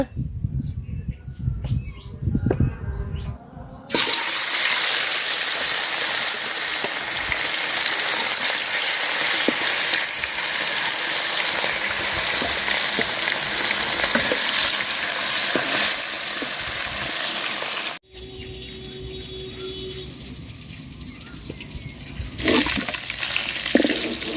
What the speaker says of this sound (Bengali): পাতিল গরম হয়ে গেছে তেল দিয়ে দিলাম মাছ বাজার জন্য